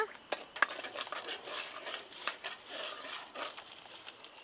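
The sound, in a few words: stirring tomato sardine curry in a pan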